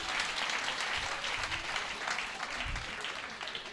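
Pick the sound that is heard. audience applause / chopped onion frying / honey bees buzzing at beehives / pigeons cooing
audience applause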